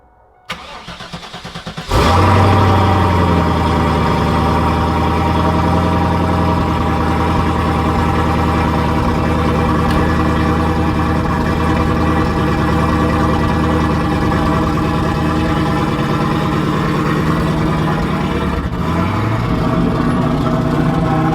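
A 6-speed swapped 1,000hp Driftcat engine cranks and catches after a couple of seconds on a cold start, then settles into a loud, steady idle with a brief dip in pitch near the end.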